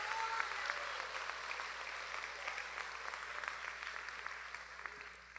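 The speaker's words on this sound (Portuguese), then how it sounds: "Você pode aplaudir o Senhor por isso" Church congregation applauding during a Pentecostal worship service, a steady wash of clapping from many hands that stays fairly even throughout, heard from a distance in a reverberant hall.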